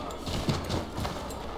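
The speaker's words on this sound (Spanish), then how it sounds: "lo mejor es llevarnos un caballo. Ir a caballo." Horse hooves clip-clop at a steady walking pace under a constant wash of ambient noise in the Assassin's Creed III video game.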